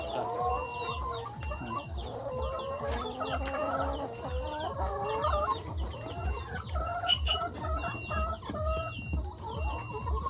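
A flock of laying hens on a farm clucks continuously and close by, overlapping calls filling the space above a steady low mechanical thrum.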